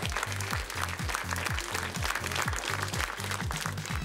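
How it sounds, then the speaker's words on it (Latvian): Audience applause at a 2015 youth physics competition final, dense clapping filling the whole stretch, with a regular pulsing low music beat running beneath it. "Ar aplausiem sveicam!"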